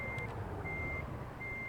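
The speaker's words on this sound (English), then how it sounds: "I'll have to back up some more" A truck's reversing alarm in the American Truck Simulator video game, three evenly spaced steady beeps over a low idling engine rumble, with no talk.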